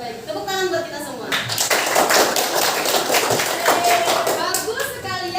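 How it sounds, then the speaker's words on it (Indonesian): A junior high school class applauds together, a dense burst of many hands clapping that fills the room for several seconds, with children's voices and chatter heard underneath. "tepuk tangan buat kita semua"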